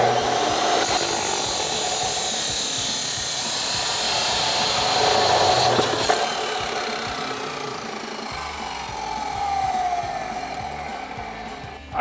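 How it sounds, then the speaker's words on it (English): A chop saw slices through an exhaust pipe for a Ford F-150 EcoBoost dual exhaust fit, a loud steady high whine with shifting pitch as the blade bites, running alone for the whole stretch. "Now we have this set up on our chop saw"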